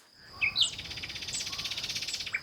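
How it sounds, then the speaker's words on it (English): Outdoor birdsong near a tiny home, with a few sharp chirps at the start giving way to a fast, regular trilling call that repeats evenly and close by. "we've got so many birds here, but I've got no idea who is making that noise."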